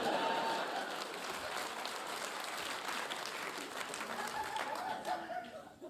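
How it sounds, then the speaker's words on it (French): Applause from a comedy club crowd at a gong show, steady clapping sustained for several seconds with some chuckles and crowd murmur mixed in, moderately distant and even throughout. "Oui, applaudissez."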